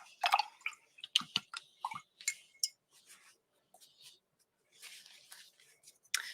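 Water rinses watercolor paint off paper in soft, scattered drips and small splashes. The sound is close and faint, with brief gaps of near silence.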